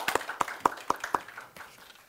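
Audience clapping at the close of a session at an international law conference: a handful of sharp, fairly spaced claps from a small group, fading out after a couple of seconds.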